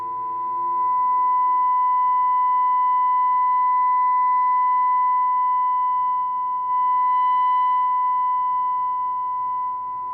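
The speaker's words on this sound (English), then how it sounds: "As you saw in that sine wave, it was just very clean." A steady pure sine-wave test tone plays through a Gibson BR-6F tube amplifier, clean and loud, swelling in at the start, dipping briefly midway and fading slightly at the end, with faint harmonics beneath.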